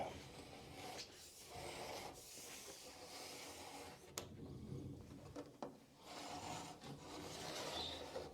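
Sheet metal for an awning is scored with a tool along a brake, giving faint, repeated scraping strokes in steady back-and-forth passes with a soft hiss under them.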